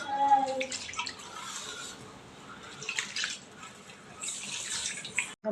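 Rice being washed by hand in a bowl of water with a little rock salt: wet sloshing and trickling, close and fairly quiet, with brief splashing bursts.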